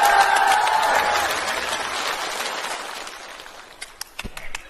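Audience applause at a Spring Festival Gala comedy sketch, a broad wash of clapping that starts loud and fades over a few seconds, leaving a handful of scattered claps near the end.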